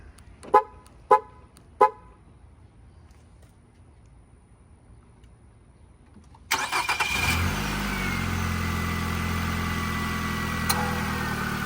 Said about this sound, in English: it is remote starting with the hood open